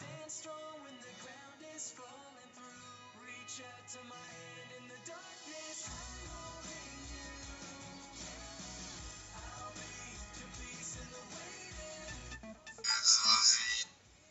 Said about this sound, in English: You might have heard my phone notification go off as well.